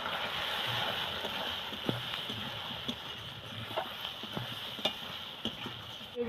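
Spices and arum root fry in a pan while being stirred, making a steady sizzle broken by scattered scrapes and clicks from the stirring, with no one speaking.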